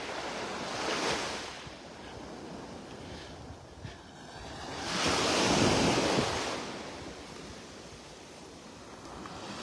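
Wind blows across the microphone on a Florida beach in North Naples, with surf washing in the background; the breezy rush swells in two louder gusts amid a steady soft roar.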